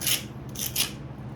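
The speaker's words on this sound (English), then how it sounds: "get the wire wheel on it" Wire wheel scrubbing a cast aluminum part from an LS V8 engine, giving a steady close rasping hiss with brighter bursts as the bristles bite, no voices.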